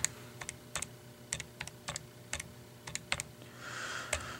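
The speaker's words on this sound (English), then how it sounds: "And underneath the y, I'll type in my position equation." Someone types a position equation on a computer keyboard, with clicky individual keystrokes in an irregular rhythm under a faint steady hum, close and moderately quiet.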